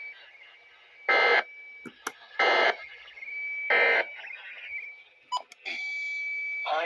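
Three loud, evenly spaced bursts of EAS end-of-message data tones broadcast on NOAA Weather Radio during a required weekly test, followed by a steady sustained tone.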